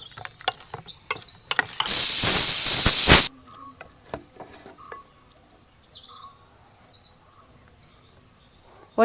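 A pressure cooker holding vegetable pulav lets out a single loud burst of hissing steam lasting over a second, followed by quieter kitchen clatter and faint bird chirps in the background.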